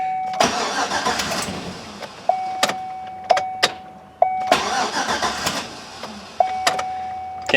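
A 2007 GMC Yukon 5.3 V8 cranking repeatedly without catching, several whirring starter bursts separated by short pauses, close and loud, each burst with a steady chime tone.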